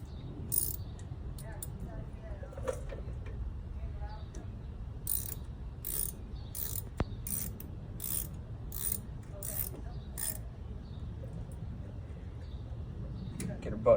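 A ratchet turns a socket in a muddy brake repair, making a run of quick, evenly spaced clicks midway through, with someone talking in the background.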